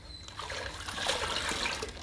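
Water being poured and mixed into a homemade leaf-based liquid fertilizer for indoor plants, a steady close trickle and splash lasting about two seconds with no talk.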